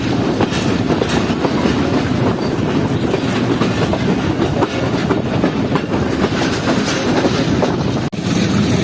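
Riding aboard the Jaffer Express on the Peshawar to Lahore line, a loud, steady rumble of wheels on rails fills the carriage with rhythmic clatter, ending in a brief abrupt dropout.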